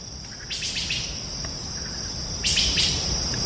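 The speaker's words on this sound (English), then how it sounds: "I believe this is wood thrush." Wood thrush singing at dusk in a North Carolina state park in early October, two bright fluting phrases heard a short distance off over a steady high insect and cricket drone.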